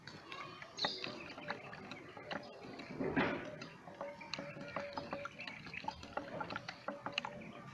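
Hydroponic AB mix nutrient solution being stirred in a small container, with faint liquid swishes and light clinks against the sides, quiet and close.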